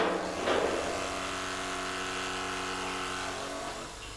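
Buon Vino wine filter pump sucking air at the end of a wine transfer between carboys, a steady close mechanical whine and whir with a sputtering rise near the start, holding evenly throughout.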